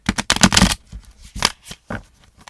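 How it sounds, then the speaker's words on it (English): Tarot cards are shuffled in several quick papery bursts, close by, with short pauses between riffles. "let's go ahead and shuffle the tarot"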